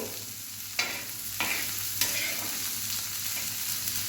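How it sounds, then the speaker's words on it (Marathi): Fenugreek leaves (methi bhaji) are stir-fried in a pan over medium heat, with a steady low sizzle broken by three sharp scraping stirs of the spatula, close by and with no voices. "छान खालीवर करून आपल्याला हे भाजून घ्यायचं आहे"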